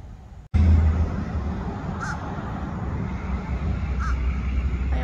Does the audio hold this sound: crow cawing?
yes